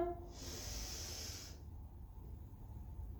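A long inhale during an arm-and-back stretching routine, a steady airy hiss lasting about a second, near and alone, followed by quiet room tone.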